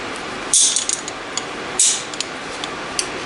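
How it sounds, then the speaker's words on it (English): A ratcheting torque wrench tightens bolts to 45 foot-pounds on an RE5R05A automatic transmission, making two close, crisp bursts of rapid ratchet clicks separated by a short pause, with no talking. "Now these ones get torqued to 45 foot-pounds."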